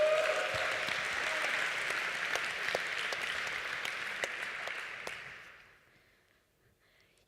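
Audience applause at a software conference honoring the organizers and volunteers, a dense steady clapping from a crowd that holds for about five seconds and then fades away to near silence.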